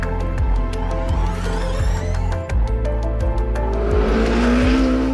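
A twin-turbocharged 4.6-litre Porsche endurance race car engine of about 700 horsepower accelerates hard and loud, its pitch climbing and then dropping through a rapid series of upshifts.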